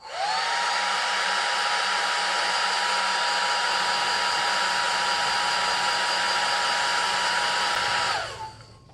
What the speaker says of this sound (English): I have a little craft hair dryer